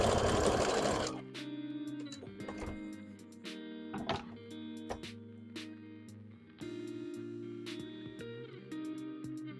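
A sewing machine stitches fabric for a cosplay cloak, its steady mechanical whirr running in bursts with brief pauses and small clicks, close and fairly loud, after a short rustle at the start.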